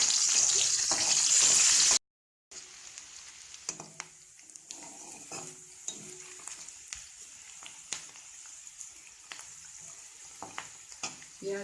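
Chopped onion with red and green chilies frying in a pan for fish head moong dal, a loud steady sizzle for about two seconds, then quieter crackling with scattered close clicks of stirring.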